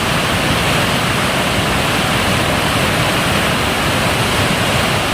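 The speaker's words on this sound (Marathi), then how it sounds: "पाणी आणि उसळतं बघताना फार मजा येते" Water rushing loudly and steadily through an artificial river-rafting channel about two to three feet deep, a continuous close roar with no voices.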